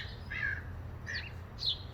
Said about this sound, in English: she sees various birds on her lawn